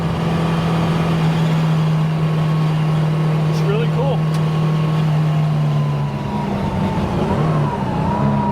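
A restored 1969 Porsche 911 E cruising, its engine holding a steady drone that eases off near the end, with a brief spoken remark over it.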